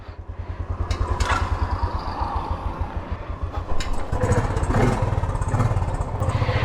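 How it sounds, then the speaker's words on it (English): Motorcycle engine cranked after sitting overnight before a hill ride toward Khajjiar, running with a steady rapid chugging pulse, close and loud, the throttle rising briefly partway through. "We're going to crank up the machine here after a day, and it won't start itself."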